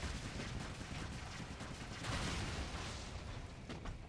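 Heavy artillery fire from a howitzer in the World War II strategy game Blitzkrieg 3: a dense, continuous barrage of booming impacts and crackling gunfire, loud and steady throughout, with a brief surge of blasts midway.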